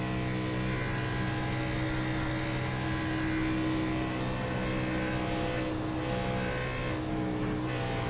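A sim race car engine holds a steady droning tone at Kansas Speedway, with the throttle eased and fed in gently and no sharp revving, constant and close with no speech.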